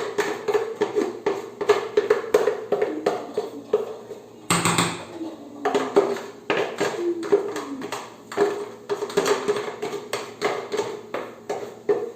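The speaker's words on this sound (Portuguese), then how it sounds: "Raspar bem o liquidificador, senão a Denise do Pastor Alcides chama a atenção da gente." A spatula scrapes cake batter out of a blender jar in a home kitchen, making repeated close scraping and light knocking strokes in a steady rhythm, with no talk.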